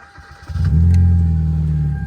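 A Hyundai Veloster with its muffler deleted starts up and settles into a deep, loud idle drone, close by after a brief crank.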